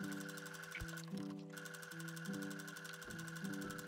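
A sewing machine stitches the back neckline of a vintage square-neck dress with a 1 cm seam allowance, running in a steady close whir with brief pauses and restarts between bursts.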